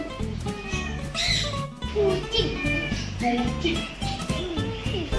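Several cats meow at a cat sanctuary, overlapping calls with people and children talking nearby.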